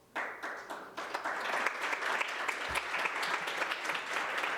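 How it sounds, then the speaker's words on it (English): Lecture audience applauding in a filled hall, a dense, steady wash of many hands clapping that starts abruptly and holds at a constant level throughout. "I think you clapped because it was the most upbeat thing I've said so far."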